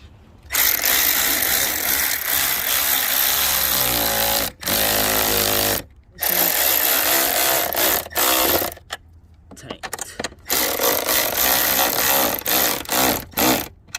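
A tool tightens the battery terminals on an Infiniti Q50 or Q60 in loud bursts of rapid ratcheting clatter, close up, separated by short silent gaps.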